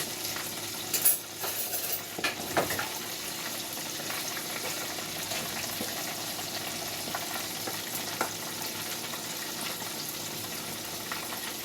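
Oil mixture with fish oil stirred in a pot for escovitch fish, a steady close sizzle and fry with a few clinks and scrapes of the spoon near the start, no talk.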